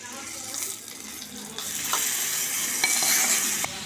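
Tempering spices for vankaya perugu pachadi hit hot oil and burst into a loud, steady sizzle that swells and keeps hissing, with a few soft clicks from the pan.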